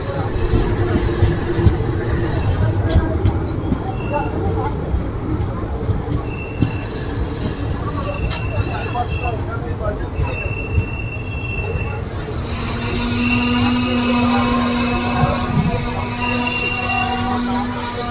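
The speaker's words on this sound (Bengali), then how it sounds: "মেচেদা রেল স্টেশন ছেড়ে দিল" Kolkata–Digha special train pulling out of platform 5 at Mecheda station, a steady rumble with metallic wheel squeals and high tonal screeches rising above it, heard from on board.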